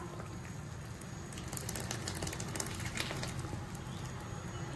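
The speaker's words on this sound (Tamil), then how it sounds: "நல்லா கொதிக்குது பாருங்க" Jackfruit curry with ground coconut bubbles and simmers steadily in a pot, a dense continuous crackling hiss with faint pops, close and even throughout.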